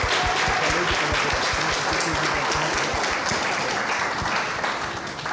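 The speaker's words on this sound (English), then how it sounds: "Give them a big round of applause again" Applause from a conference audience at a sustainability talk in Cannes, a dense, steady wash of many hands clapping close by, holding level for the whole stretch with no voices on top.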